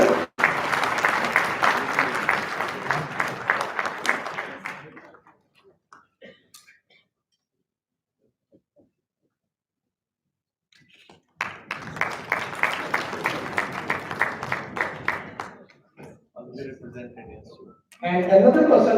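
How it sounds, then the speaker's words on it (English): Audience applause at a dental award ceremony comes in two bursts, a few seconds of loud clapping, then near silence, then another round, with a voice returning at the close. "A big round of applause for Dr."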